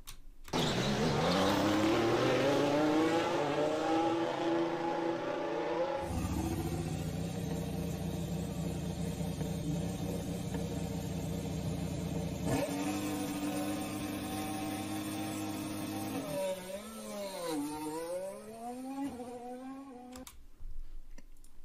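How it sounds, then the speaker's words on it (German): A real Formula 1 car engine fires up and revs, a loud, high-pitched whine that holds steady, climbs and dips through sweeping pitch changes for around twenty seconds before cutting off. "Hört jetzt ganz genau hin, was beim Formel 1 Auto für ein Startsound kommt, wenn der Motor angeht."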